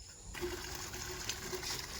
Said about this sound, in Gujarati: પાણી ભરવાનું ચાલુ છે